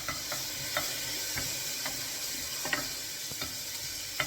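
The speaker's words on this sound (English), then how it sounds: "So keep stirring it round" Thai red chicken curry being stirred in a pan: a soft continuous sizzle with light, irregular scrapes and taps of the utensil against the pan, fairly quiet and steady, with no voices.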